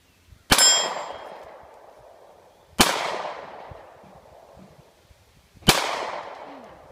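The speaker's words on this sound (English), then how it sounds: "This is gonna be her first time shooting the shield." Three loud gunshots ring off a steel shield target about 10 to 12 yards away, each a sharp metallic clang followed by a slowly fading ring, spaced a couple of seconds apart.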